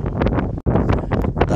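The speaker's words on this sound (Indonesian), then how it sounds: "Lihat laut begitu tenang, bersahabat, angin sepoi-sepoi, kapal di sana." Steady wind buffets an outdoor microphone beside a calm sea off Ghana, a broad continuous rush with gusty swells and one brief dropout, with no voices over it.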